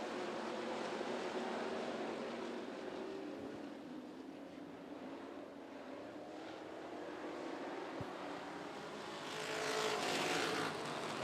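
Classic race cars in a 20-lap feature event at 411 Motor Speedway roar around the oval in a continuous, dense engine drone from a distance, swelling louder as the pack passes near the end.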